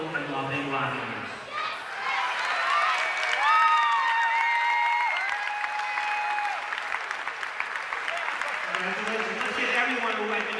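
A Star Trek convention audience gives sustained applause for the costume contest winners, the clapping of a large crowd held steady for several seconds, while a voice speaks over it at the start and end.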